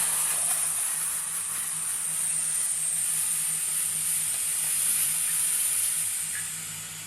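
A powerful garment steamer hisses as it steams drapes, a loud, constant, close rush of steam holding steady for several seconds before tapering slightly at the end.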